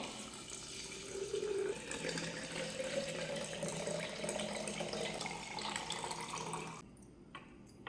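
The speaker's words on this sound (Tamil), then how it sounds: "நீங்கள் வாட்டர் ஊற்றிக்கோங்க." Water is poured from close by into a jar holding mint leaves, a steady gurgling trickle that runs for several seconds and then stops abruptly, leaving a few faint clinks.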